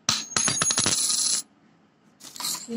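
An old silver coin dated 1730 dropped onto a hard surface gives a bright, close metallic ring with quick rattling bounces that fade, followed by a second ringing strike after a short pause.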